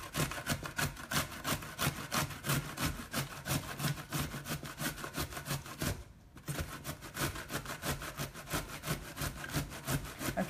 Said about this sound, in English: you're just gonna grab it and you start grating it.